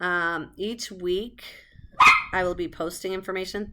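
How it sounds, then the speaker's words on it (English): A dog barks a few sharp times partway through while a person keeps talking nearby. "That was my dog, one of my dogs."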